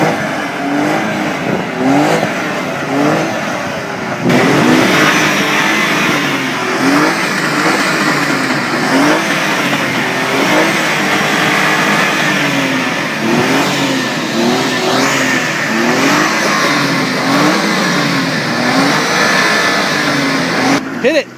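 Jeep JK engine revving hard during front axle testing on a G2 Core 44, loud and sustained throughout with rising and falling pitch sweeps, while voices talk and shout nearby.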